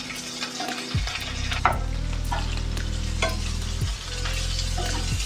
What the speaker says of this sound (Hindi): प्याज हम अच्छे गोल्डन होने तक भूनेंगे।